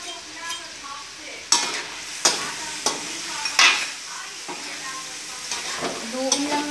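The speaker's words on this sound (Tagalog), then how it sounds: "Duin lang natin siya ng haluin. Para maluto ang mushroom." Mushrooms sauté for spaghetti in a pan, sizzling steadily while a spoon scrapes and knocks against the metal in a string of stirring strokes, with faint voices in the background.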